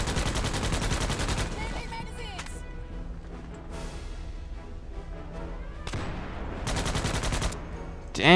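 Rapid gunfire bursts in a shooter video game, with sniper shots among them, heard as dense loud volleys at the start and again near the end, with quieter gaps between them.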